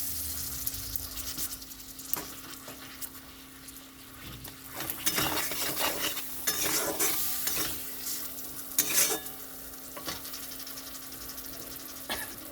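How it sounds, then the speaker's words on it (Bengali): Tomatoes and taro pieces fry in a pan with Kashmiri chilli powder, a steady sizzle running throughout while a utensil stirs and scrapes in irregular bursts, close and moderately loud, with no talking. "এখন এটা ভালো করে কষাবো।"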